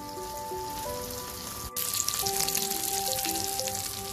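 Mudskipper fish sizzle as they fry in a pan, a steady crackling hiss under background music that grows louder partway through, with no speech.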